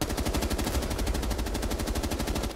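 Sustained automatic gunfire from Rainbow Six Siege, rapid evenly spaced shots rattling without pause for the whole stretch, loud and close with a dense low-end thump under each round.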